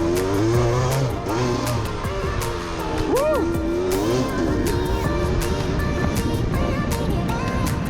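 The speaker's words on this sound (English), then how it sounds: "Obviously this sort of style is a two-stroke motor which needs to be revved, needs to be in its power band" A 125cc two-stroke motorcycle, a 27-year-old bike, revs hard while being ridden, its high buzzing engine note rising and falling repeatedly with sharp throttle blips, loud and close amid wind noise.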